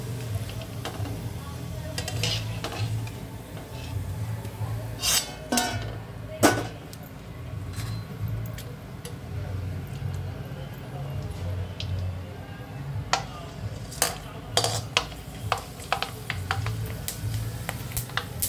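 Kurudi puffing up as it fries in a hot pan, a low steady sizzle with occasional scraping and clinks of a utensil, while someone talks over it.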